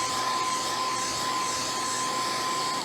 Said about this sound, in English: I'm gonna take this little bunny and I'm gonna blow dry him.